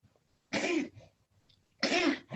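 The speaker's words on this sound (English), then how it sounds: "the kitty's having a little coughing fit if you hear that" A cat coughing indoors, two short harsh hacking bursts close by, separated by a brief pause, with no talking.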